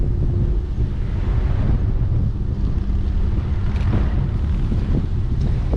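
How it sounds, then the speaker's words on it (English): Strong headwind buffets the microphone at Summerland Key Airport (FD51) in the Lower Florida Keys, a loud, steady roaring rumble that lasts throughout with no voices. "Big headwind."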